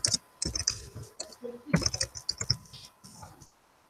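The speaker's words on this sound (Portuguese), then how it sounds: "Eu tô escrevendo assim, gente, também pro teclado" Rapid clattering keystrokes on a computer keyboard in irregular bursts, close up, with a brief pause partway through and then a quieter stop.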